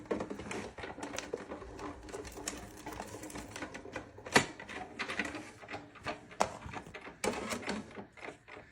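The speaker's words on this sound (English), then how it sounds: "roll it through our Sizzix Big Shot Plus." A Sizzix Big Shot Plus die-cutting machine has a die rolled through it to cut out a pumpkin shape, giving close, uneven mechanical clicking and ratcheting with a few sharper knocks, steady for several seconds with no talk.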